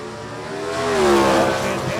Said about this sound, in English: Listen to that James Antoinette motor sing down there